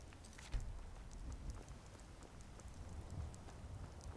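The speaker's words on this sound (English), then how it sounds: "And it's raining." Steady rain in Skyrim patters down continuously, a dense hiss of drops with no voices.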